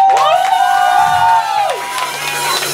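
A farewell-party crowd in a bar in Rivne cheers and applauds, led by a loud drawn-out whooping shout over scattered claps, close and fairly loud throughout.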